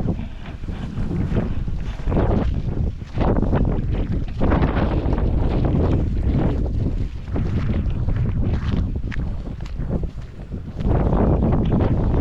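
Strong wind gusting across a farm, a loud continuous roar with buffeting bursts striking the microphone throughout, no voices over it.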